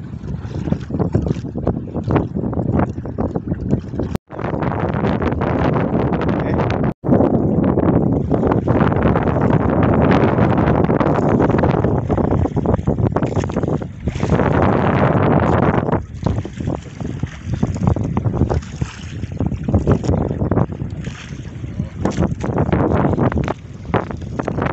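Strong wind at sea buffets the microphone beside a fishing boat on a tuna trip, a loud continuous roar with water noise beneath and two brief dropouts.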